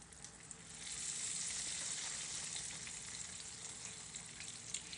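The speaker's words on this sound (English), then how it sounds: "let's just add some fries into the pan" Steak fries frying in very hot grease in a pan, a steady dense sizzle that swells after the first second and holds on alone, fairly faint.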